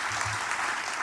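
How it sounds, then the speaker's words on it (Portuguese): Audience applause for Fernando Haddad at a BNDES event, a dense steady wash of clapping from a crowd filling the whole moment. "Fernando Haddad agora aplaudido"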